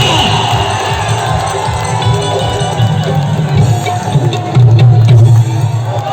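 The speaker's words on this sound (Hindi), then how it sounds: "एक बार ताली होगी कि चलिए भैया।" Large crowd at a Bhojpuri stage show for Khesari Lal Yadav, loud continuous cheering, shouting and whoops with clapping mixed in, swelling near the end over a steady low hum.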